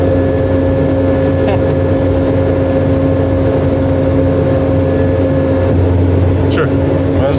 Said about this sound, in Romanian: nu e foarte gălăgioasă, decât motorul se aude